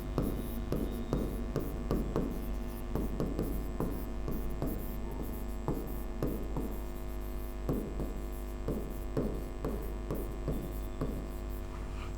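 Chalk or marker strokes on a board during a Hindi alphabet lesson, with short scratchy bursts in uneven clusters over a steady electrical hum, no talking.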